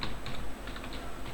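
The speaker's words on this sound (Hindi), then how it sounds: "ब्राउज़र खोलने के बाद यहाँ पर टाइप करिए" Fingers type a web address on a computer keyboard, giving a quick, close run of light plastic key clicks over just over a second, with no voices.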